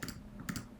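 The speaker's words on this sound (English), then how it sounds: "We're going to right click." A computer mouse right-click in image editing software, heard as a pair of faint, quick clicks in a quiet room with low background hum.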